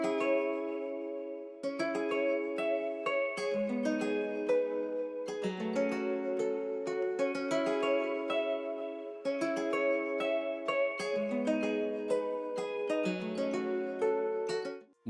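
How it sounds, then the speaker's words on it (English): A second guitar layer in a Spanish-inspired melody, treated with chorus, EQ and glue compression, plucks bright arpeggiated phrases in repeating bars, clear and alone after a brief silence at the start. "this second guitar layer is sitting really nice in the background"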